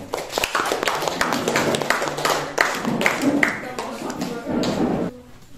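Classmates in a teacher-training class clap for a presenting group, a lively run of close claps overlapping with speech, then fading to quiet near the end.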